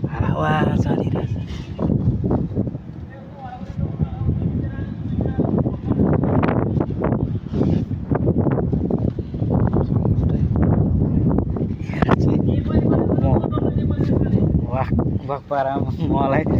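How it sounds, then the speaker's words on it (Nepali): Loud gusty wind rumbles against the microphone at the top of the Melaka sky tower in Malaysia, a constant buffeting roar while a person talks over it. "हावा चलिरहेछ"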